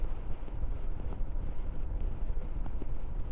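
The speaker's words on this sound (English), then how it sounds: "And it's proper gusty out here today." Gusty wind buffets the microphone while riding a 2023 Royal Enfield Himalayan 411 motorcycle on an open road, a steady loud low rumble with slight surges and no speech.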